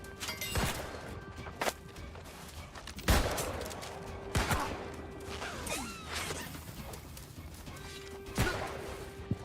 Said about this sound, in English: Is he shooting me through the environment?